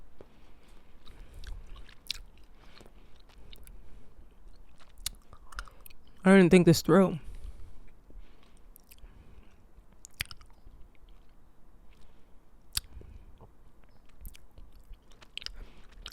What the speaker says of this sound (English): now I'm just chewing